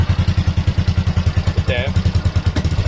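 A Honda MSX 125 Grom motorcycle engine runs on a stand with the back wheel spinning, giving a loud, close, rhythmic chugging pulse with a brief clatter partway through.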